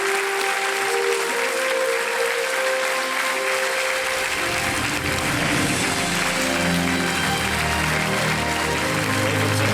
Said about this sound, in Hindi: मिस्टर राजेश टच रिवर का तालियों के साथ अभिनंदन किया जाए